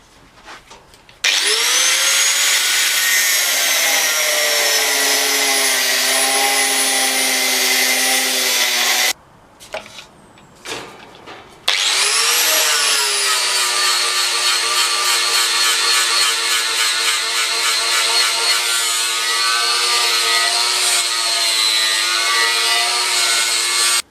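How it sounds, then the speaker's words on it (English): A file is drawn along a steel sword blade 73 centimeters long, cutting its bevelled contours, in long continuous rasping strokes, loud and close, with a short break midway before the scraping resumes. "I used some draw filing to help define the contours"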